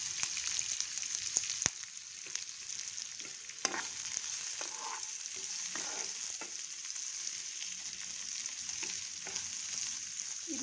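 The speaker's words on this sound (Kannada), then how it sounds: "ಇದು ಸ್ವಲ್ಪ ಒಗ್ಗರಣೆಯಲ್ಲಿ ಫ್ರೈ ಆಗಲಿ" Onion, dry red chilli and curry leaves fry in hot oil for a tempering, giving a soft, steady sizzle with scraping stirs and occasional clicks, close and quiet, with no talking.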